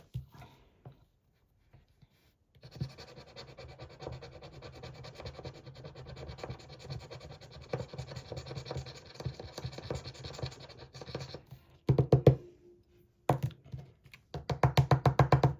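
Scratch-off lottery card being scratched with a coin or nail: a long, close, continuous dry rasping run, then a few shorter scraping bursts after brief pauses, with no talk.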